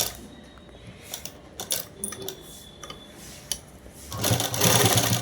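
Sewing machine stitching a shirt seam, short bursts of rapid mechanical whirring with pauses between, close by, ending in a longer louder run of stitching.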